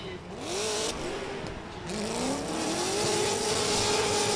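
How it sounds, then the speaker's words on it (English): A Nissan S14 drift car launches during qualifying at a drift championship in Oman, its engine revving hard and rising in pitch with repeated climbing sweeps, loud and near, while a commentator talks over it. "So, off the line is Gunniman in this very aggressive S14."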